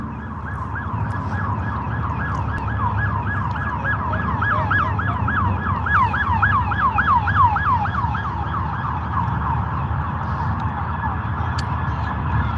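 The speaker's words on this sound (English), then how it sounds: "Well, that's an ambulance." An ambulance siren wails in a steady rapid up-and-down cycle, fairly close, over low traffic rumble.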